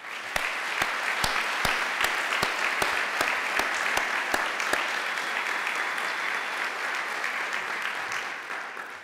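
Steady applause from an audience honoring nursing faculty at a nursing school announcement event, sustained for about nine seconds with a few sharper, closer claps standing out early on.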